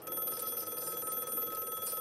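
A telephone ringing, a steady electronic ring with a buzzing rhythmic pulse that holds for the full two seconds at moderate level, with no voices.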